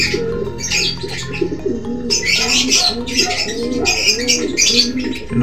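Pigeon cooing in low, repeated throaty bursts while laying an egg, steady and close, with brighter chirps and rustling overhead.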